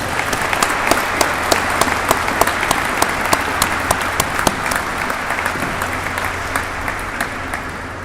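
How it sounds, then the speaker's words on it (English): Steady audience applause fills the room for Cub Scout and Boy Scout color guard at a city State of the City address, dense clapping from a large crowd sustained throughout with a faint low hum underneath. "Let's give them a great round of applause, folks."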